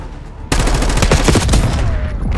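Loud, continuous automatic gunfire in a Call of Duty game, a dense rapid burst starting abruptly after a short quiet moment and running to the end.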